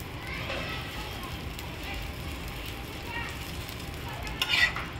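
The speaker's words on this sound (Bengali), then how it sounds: "তো এখন ভেজে নিচ্ছি। আজকে একটু ঘি দিয়ে ভাজবো।" Food frying in homemade ghee, a steady soft sizzle with light stirring running throughout at close range, with a brief louder crackle near the end.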